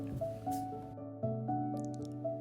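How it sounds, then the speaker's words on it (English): Bubbles of oxygen escaping from cold water pools trapped beneath the Salar de Uyuni salt flats in Bolivia, making close, fairly loud, repeated plopping and gurgling drips in an irregular rhythm, with no talk. "It's the bubbles of oxygen escaping out of cold water pools which are trapped underneath."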